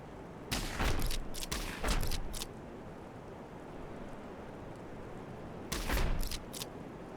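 Short rattling bursts of gunfire in the video game Heart of the Machine, a few quick volleys at moderate level over a quiet background, with a long pause between them.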